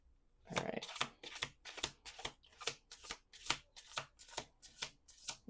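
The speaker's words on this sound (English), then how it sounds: "We're going to do 2 more shuffles after this." A deck of cards being shuffled over and over, each riffle a crisp close burst of flicking cards, repeating in a steady rhythm of about two per second with nothing else heard.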